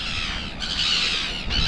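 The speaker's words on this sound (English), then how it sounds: "Alright, seagulls." Seagulls squawk on Maketu Spit, a couple of harsh, close cries that rise and fall over steady outdoor wind noise, with no talking.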